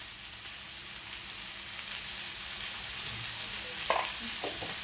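Onion, tomato and green chili fry with salt in a pan, a steady soft sizzle punctuated by a couple of brief stirring scrapes near the end.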